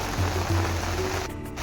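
Heavy rain falls at the Murudeshwar temple, a dense continuous hiss at fairly high volume, with a faint low hum beneath and a brief dip near the end.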